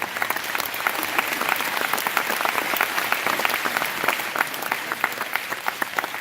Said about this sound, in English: let's give a big round of applause for Chef Murphy